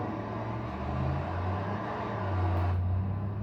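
Car driving in the video game Farming Simulator 25, a steady low engine hum that rises in pitch as it accelerates, with no talking over it.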